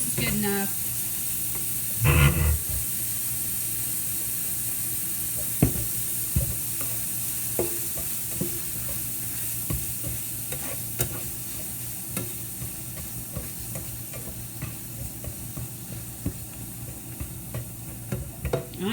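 Ground meat for lasagna browning in a pan, a steady close sizzle with scraping spatula stirs throughout and a louder clatter near the start.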